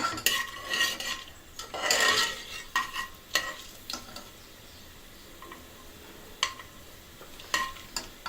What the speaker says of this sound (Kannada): ಒಗ್ಗರಣೆ ಸಾಮಾನು ಅವೆಲ್ಲ ಹಾಕೋಣ.